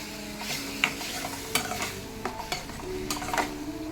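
Ginger garlic paste is sautéed in a pan for a vegetable kurma, a steady close sizzle with a spoon stirring and scraping at irregular moments, no talk.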